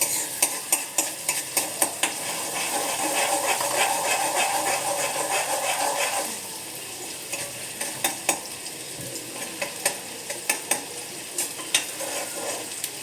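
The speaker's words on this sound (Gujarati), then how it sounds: "આદુ મરચાં લસણની પેસ્ટ ઉમેરીશું, એને થોડી વાર સતળાવા દેશું" Ginger, chili and garlic paste sizzles in a hot pan for veg paneer gotaro, with a spoon scraping and stirring in rhythmic taps and a steady frying hiss underneath.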